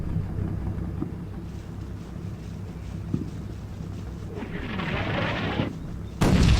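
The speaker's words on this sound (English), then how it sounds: "We will keep up the bombardment just to be sure" An artillery bombardment in the Combat Mission Rome to Victory wargame: low rumbling booms and scattered distant impacts roll under a steady wind-like hiss, ending in a sharper, louder blast.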